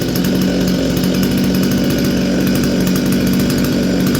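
A Stihl MS210 chainsaw with a newly replaced carburetor runs close by, its engine droning loud and steady with a slightly uneven idle pulse throughout, no voices.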